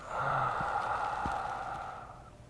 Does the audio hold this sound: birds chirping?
no